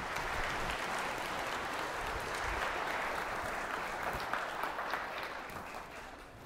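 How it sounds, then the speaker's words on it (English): An audience at a church First Holy Communion gathering claps together in a sustained, even round of applause that tapers off slightly at the end, with no talking over it. "Everyone give a round of applause for Maxwell."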